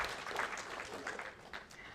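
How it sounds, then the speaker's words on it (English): A fairly quiet burst of applause rises from the crowd at a British Skydiving awards meeting, a steady patter of clapping lasting a couple of seconds. "So let's have a round of applause for Ian and Paul."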